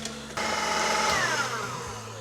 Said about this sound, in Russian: И продолжаем взбивать. С маленьких оборотов это обороты увеличиваем.